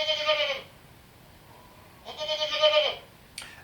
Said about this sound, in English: Get ready for a goat sound.